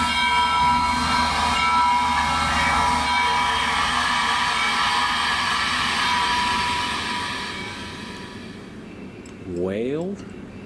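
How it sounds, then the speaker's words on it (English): A train rumbles past steadily at close range, with a continuous rolling roar that fades toward the end before a short whistle-like tone. A voice speaks over the passing train. "I think the train got off its track."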